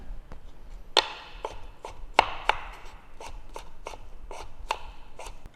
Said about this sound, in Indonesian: Berikutnya kita masukin bawang putih, kita potong juga. Potong halus aja.